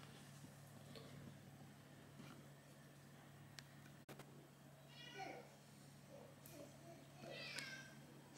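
A house cat meows several times nearby in a quiet indoor room beside a laptop being repaired, short rising calls over a low steady hum.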